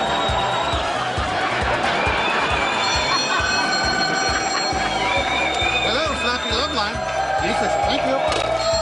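Several telephones ring repeatedly on a busy phone line, overlapping electronic trills over a steady rhythmic beat of music, with voices talking in the background.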